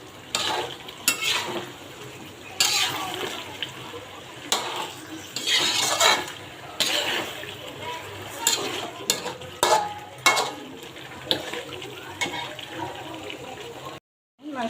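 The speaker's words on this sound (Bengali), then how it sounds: "মাংসটা এখানে কষা হয়ে গেছে আমার।" Meat being stirred and fried as kosha in a pan, with repeated scraping strokes of the spoon against the pan over a steady sizzle, close and fairly loud.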